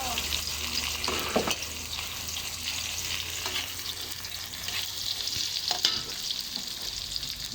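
Onions sauté in a pan for kare-kare, a constant, moderately quiet sizzle and hiss with occasional clicks and scrapes of stirring.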